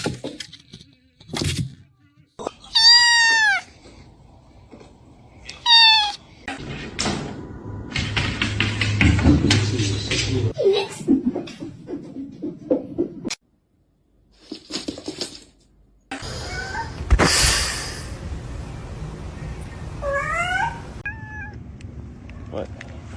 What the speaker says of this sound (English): This is my cat, Mimi.